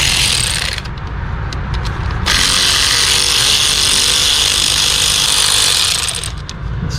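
A ratchet whirs in long, loud continuous runs while E7 bolts come off a fuel line bracket on a 2012-2016 BMW F30 328i engine, with one brief break between the two stretches of close clicking.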